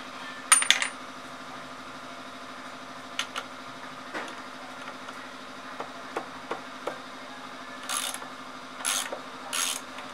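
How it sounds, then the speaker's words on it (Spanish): Scattered metallic clinks and scrapes as tight bolts come out of a Suzuki GSXR front wheel, a few sharp taps early, several small knocks in between and a cluster of bright rattles near the end, over a steady low hum. "quitar estos dos tornillos que están bien apretados"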